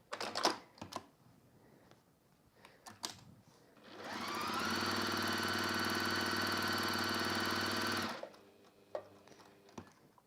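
Domestic sewing machine runs a handbag seam in one sustained, even whirring burst of about four seconds, framed by quieter handling clicks and fabric shuffling before and after.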